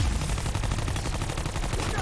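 Dense, rapid automatic gunfire from Black Ops 4 Zombies during a boss fight, continuous and loud for the whole stretch with no pauses.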